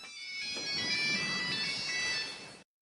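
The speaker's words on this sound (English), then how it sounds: "remember the ringtone happened a second time, it's much more distinct." A phone ringtone plays alone, a bright repeating electronic melody that holds steady for a couple of seconds, then cuts off abruptly.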